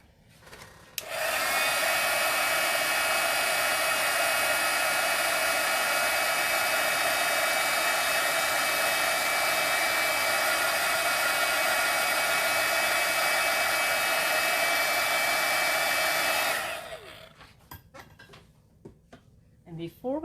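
A hair dryer blows hot air to dry ink on a handmade note card, a loud, steady whooshing roar that starts abruptly, holds for about fifteen seconds and then cuts off.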